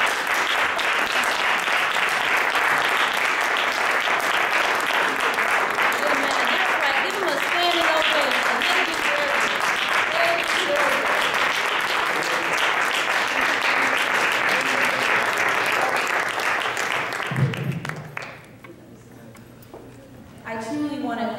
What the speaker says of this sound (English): Let's give our Christian Education Department a round of applause.